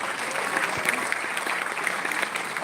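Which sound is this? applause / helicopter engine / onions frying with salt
applause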